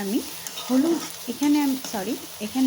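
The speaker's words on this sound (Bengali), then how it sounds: "কড়াইতে কিছুটা সরষের তেল নিয়ে এখানে আমি একটু 1 কাপ পরিমাণ পেঁয়াজ কুচি ভাজছি" Chopped onions fry in mustard oil in a kadai, producing an even sizzle under several short, rising and falling vocal sounds.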